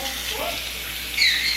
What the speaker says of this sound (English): Rinsing off with cold water.